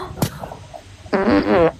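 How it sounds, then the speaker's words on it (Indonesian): A loud, buzzy fart ripples out for about half a second after a sharp click and faint background noise. "lo kentut ya"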